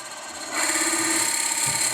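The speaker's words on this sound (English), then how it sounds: "Yeah, I'll finish the drill." Power drill boring into a wooden pepper mill, a quiet rubbing start that swells after half a second into a steady, loud grinding whir held to the end.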